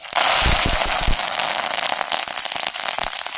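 Mustard and cumin seeds crackle and pop steadily in hot oil, a dense close sizzle with sharp spits throughout and no talking.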